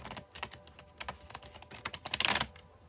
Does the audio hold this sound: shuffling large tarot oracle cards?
yes